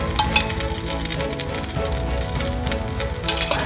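Ghee sizzles around kari dosa, a Madurai-style mutton dosa, on a hot griddle, giving a steady close crackle and hiss with a few sharp clinks over a continuous droning hum.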